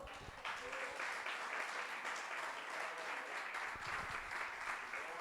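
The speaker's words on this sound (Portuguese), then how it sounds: "E as palmas louvem ao Senhor." Congregation in a church service clapping in praise, a continuous, even roar of many hands heard from some distance at a fairly quiet level, steady throughout with no talking.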